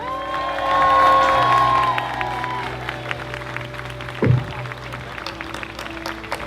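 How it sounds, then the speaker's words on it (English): An outdoor opening ceremony crowd at a charity walk applauds and cheers, a broad wash of clapping with whoops that swells early and then fades to scattered claps under a lingering tone. "give them a round of applause"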